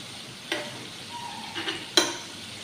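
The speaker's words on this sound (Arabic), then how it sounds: "شايفين الفراخ انا معليه على الطاسه اهي" Chicken pieces frying in a pan give off a steady low sizzle, broken by a couple of sharp utensil clicks and brief scraping stirs, heard close with no talk.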